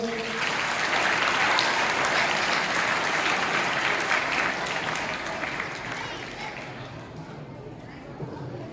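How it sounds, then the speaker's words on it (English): Sustained audience applause fills a school auditorium during a science debate competition, dense and loud at first, then gradually thinning and fading toward the end. "give them a round of applause"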